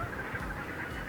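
A dense chorus of ducks on a wildlife refuge, many overlapping quacks and honking calls forming a steady, continuous wash of sound from a large flock at moderate distance.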